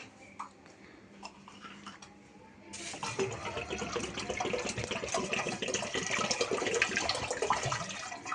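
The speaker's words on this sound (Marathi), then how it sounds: "अजून पाणी टाकूया थोडंसं." More water poured into a cooking pot while preparing pav bhaji, a steady rushing stream that starts abruptly partway through and continues loud to the end, after a quieter stretch with faint background sounds.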